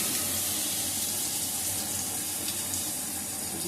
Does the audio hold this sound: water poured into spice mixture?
yes